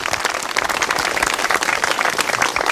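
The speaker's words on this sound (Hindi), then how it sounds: "ताली बजाइए, नौकरी इलाज है" An audience claps throughout, a dense, continuous patter of many hands at close range with no voices over it.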